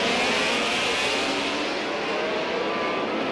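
Race cars accelerate together on the restart of heat number 2, a loud, sustained roar of engines near the listener, with no speech.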